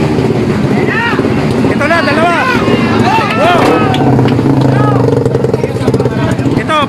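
Loud aftermarket exhaust pipe on a Raider 125 motorcycle at a loud pipe party, revving in rising and falling sweeps close by, with crowd voices and wind noise mixed in.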